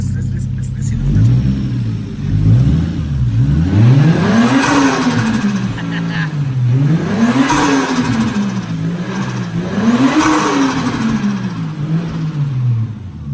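Toyota Mark II JZX110 engine revved repeatedly in three rising and falling sweeps, each ending with a hissing turbo flutter, loud and close with brief voices in the background.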